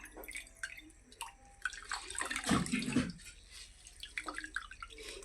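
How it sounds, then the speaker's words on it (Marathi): Water squeezed out of soaked wheat flour dough for puran poli falls in drips and small splashes, with a dense pouring trickle in the middle, close by and moderately quiet, with no talking. "असं संपूर्ण पाणी पिळून घ्यायचं"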